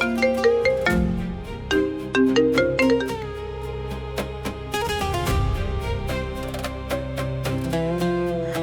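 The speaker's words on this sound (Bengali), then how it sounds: "হৃদয়, হৃদয়, আবার ফোন ধরে না।" A telephone rings on and on in a home with nobody answering, a melodic electronic ringtone repeating steadily and fairly loud, with no voices over it.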